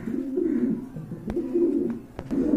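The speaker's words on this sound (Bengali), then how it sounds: "সুপার কোয়ালিটির এক জোড়া কবুতর আছে" Holy cooper pigeons kept for sale coo up close in repeated low, rolling phrases, with a few short breaks and light clicks between the calls.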